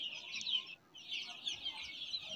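Chickens on a farm being fed water spinach give high, thin clucks and chirps in two close bursts with a brief gap, fairly quiet against a low background.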